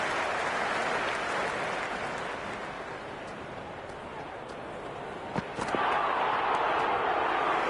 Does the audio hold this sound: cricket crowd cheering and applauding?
yes